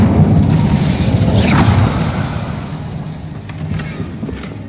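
Incendio fire spell going off in Hogwarts Legacy: a loud, close roaring blast with a swelling low rumble and crackle that gradually eases over several seconds amid ongoing combat noise.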